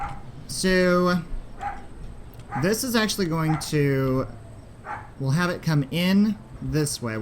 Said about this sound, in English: And my dog is barking, and I do apologize if you can hear her in the background